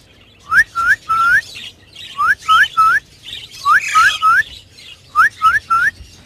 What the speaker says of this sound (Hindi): यहाँ से ये सीटी बजाता रहता है